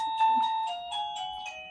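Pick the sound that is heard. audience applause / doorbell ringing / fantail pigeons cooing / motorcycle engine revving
doorbell ringing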